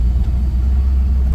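A 1966 AMC Rambler Rebel with a 327 V8 running while driving, a steady, loud low engine rumble with no talk over it.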